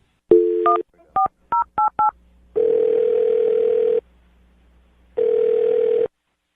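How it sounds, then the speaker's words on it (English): A telephone dials a number: a string of short touch-tone beeps in quick succession, followed by two long, steady ringback tones separated by a pause, clear and close on the line. "I'm going to dial her phone number right now"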